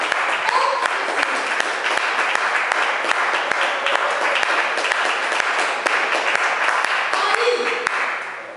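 Sustained applause from a church congregation, a dense, steady wash of clapping filling the whole stretch at even loudness before tapering slightly at the end, with a faint voice or two buried underneath.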